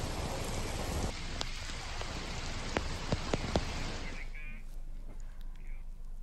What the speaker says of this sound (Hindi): दिल्ली और नोएडा में भारी बारिश हुई है।